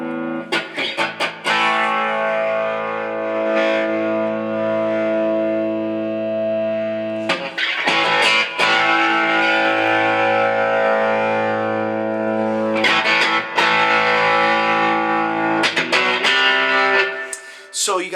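Harley Benton TE 80 NT electric guitar, a Prinz-style copy, played through a crunchy distortion tone, with loud sustained chords and riffs ringing out in bursts, brief pauses between phrases, and no talking.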